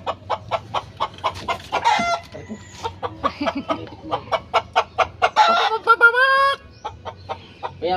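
Native chickens clucking close by in rapid, repeated bursts, with a short rooster-like crow partway through and a person speaking briefly among the calls.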